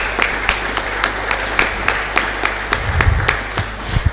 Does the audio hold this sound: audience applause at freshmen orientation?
yes